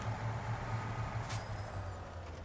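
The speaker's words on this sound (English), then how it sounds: "Got a funny little squeak to it on the, is it the air brakes when it kind of reverses?" A heavy truck in the game SnowRunner idles with a low engine rumble, then a sharp burst of air hiss and a thin high squeal from the air brakes.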